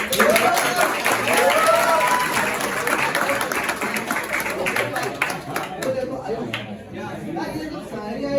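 Party crowd at a New Year celebration breaks into loud, continuous clapping with chatter and voices mixed in, thinning toward the end as talk carries on.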